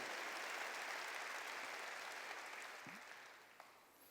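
A church congregation at a Sunday service claps together in a dense, even wash of applause, heard from a distance and steady before easing off slightly toward the end.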